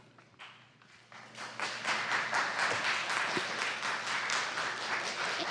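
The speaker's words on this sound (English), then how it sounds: "I would request that people please hold their applause, because applause takes up time" Applause from an audience at a Public Safety and Human Services committee meeting, starting sparse and quickly swelling into steady, dense clapping that holds for several seconds with no talk.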